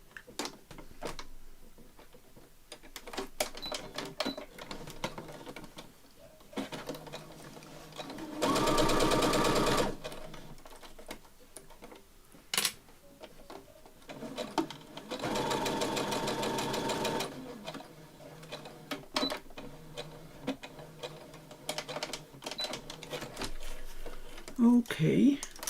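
A domestic sewing machine stitches down the middle of a strap in two steady whirring bursts, one longer and one shorter, with quiet handling noises and occasional speech between runs.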